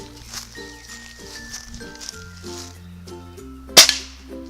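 A single sharp gunshot cracks out at a target can, loud and close, standing alone over a background of music.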